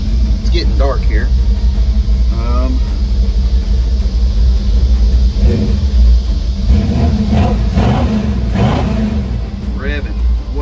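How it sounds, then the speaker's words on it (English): A repaired car engine revs up several times, loud and close, its pitch rising and falling over a constant low rumble, with someone speaking between and over the revs. "Revving way better. It revs a lot better than it did."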